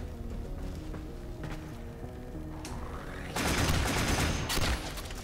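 Boltor rifle gunfire in Warframe: a short tonal passage gives way to a dense, loud burst of rapid shots around the midpoint, with a second surge near the end, up close and with no voices over it.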